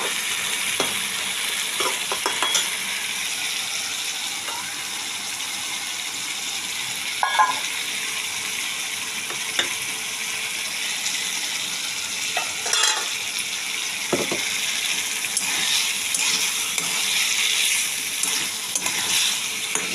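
Boiled potatoes frying in a pan for soybean kofta curry, a steady broadband sizzle running throughout with occasional sharper crackles and stirring scrapes, no voices.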